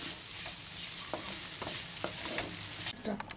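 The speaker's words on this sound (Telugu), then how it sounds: "అంతా వేసి ఇట్లా కలిపేయాలి, అంతా కలిసేలాగా." Raw tomato, green chilli and salt for chutney stirred together in a pan, a steady scraping rustle with soft spoon knocks against the metal, close and alone.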